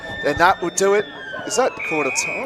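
A quarter-time siren sounds at a local Australian rules football match between North Ringwood and Montrose, a steady held tone running right through while a commentator talks over it.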